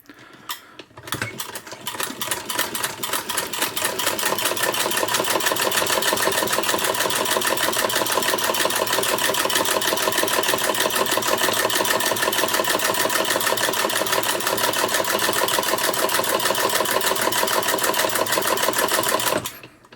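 Sewing machine fitted with a Greist rotary buttonholer stitching a narrow straight-stitch buttonhole, running as a fast, steady, close mechanical clatter for nearly the whole stretch, starting and stopping abruptly with no talking.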